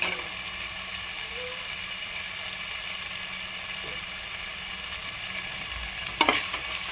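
Tomato with mint and coriander sautéing for chicken biryani, a steady broad sizzle in the pan with faint stirring scrapes and a sharper clatter near the end, close and unbroken.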